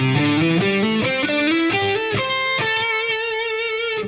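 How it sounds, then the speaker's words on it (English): An electric guitar with a slightly distorted tone plays a fast minor pentatonic run in rock style, a quick succession of picked notes climbing through positions and ending on a held, ringing note. "This is really just a minor pentatonic run"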